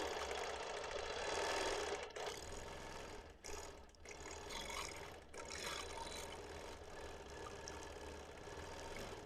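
Sewing machine quilting a scrappy vintage quilt top with thick, bulky seams: a loud, continuous mechanical whir with a few short dips and pauses, then steady running again, with no voices.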